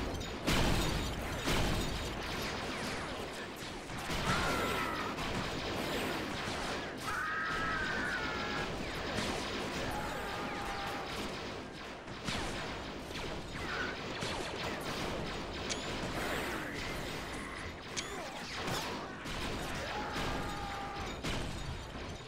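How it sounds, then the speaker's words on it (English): Star Wars: Galaxy at War battle sounds, with dense overlapping blaster shots, zaps and small explosions crackling continuously across the map at a moderate level, busy and layered with no voices. "love seeing the blaster fire all over the map"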